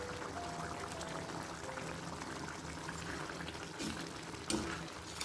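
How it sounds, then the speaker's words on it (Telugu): Chicken curry simmering in a pot while it is stirred, a steady bubbling simmer with scraping and stirring noises, a couple of louder clatters near the end, no talk. "గిన్నె లైట్గా అడుగు అంటుతుందండి, అందుకని కలుపుతున్నాను"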